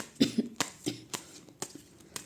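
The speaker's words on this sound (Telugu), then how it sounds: "సారీ వీడియోలో నాకు కొంచెం కాఫ్ ఎక్కువ వస్తుంది ప్లీజ్ ఇగ్నోర్ ఇట్" A person coughs in a series of short, sharp bursts, several close-up coughs spaced irregularly across a couple of seconds, with no talk between them.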